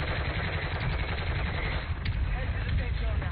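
Mortar blasts and gunfire in a combat video game, a dense continuous rumble of explosions and rapid shots filling the clip, loud and close, with a player's voice talking over it.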